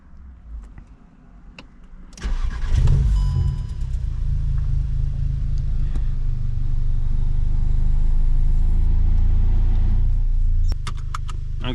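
A modified VW Scirocco engine of about 300 bhp cranks and catches after about two seconds, then settles into a steady, loud rumbling idle that drops slightly near the end.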